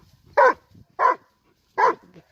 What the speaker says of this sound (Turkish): Bu köpekleri sen kızıştırdın buraya getirdin değil mi?